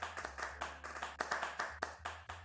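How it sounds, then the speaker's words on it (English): A small audience at a live talk on digital fashion claps in a sparse, uneven patter, individual claps distinct and fairly close, with steady low hum underneath. "A round of applause"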